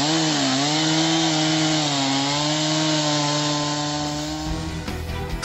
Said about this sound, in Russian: Спасатели в гидрокостюмах и с бензопилой так освобождают в Светлогорском районе вблизи деревни Затон провалившийся под лед внедорожник